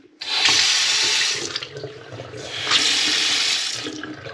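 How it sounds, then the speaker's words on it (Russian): Water runs from a tap into a sink in two strong bursts with a quieter trickle between them, close by, during installation work on a water heater. "Вода идет."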